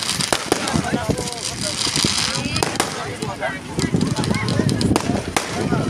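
At a Chhath Puja gathering on the Toorsa River bank in Jaigaon, firecrackers go off in quick, dense cracks and pops over about six seconds, mixed with crowd noise and people talking close by.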